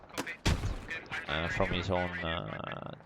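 Grenade blasts go off in a competitive squad-based shooter match: a couple of sharp, heavy bangs open the stretch, then a commentator's voice carries over the rest while the explosions fade beneath.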